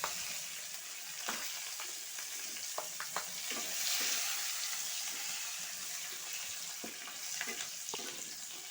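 Onions, bay leaf and green chillies frying in hot oil in a pan, with a steady close sizzle throughout, broken by occasional stirring clicks and scrapes.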